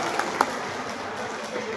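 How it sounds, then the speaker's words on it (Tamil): Scattered clapping from an audience at a Telugu Chettiar association meeting, a soft continuous patter with a couple of louder individual claps near the start. "கை தட்டுங்கன்னு சொன்னா கை தட்டுங்க."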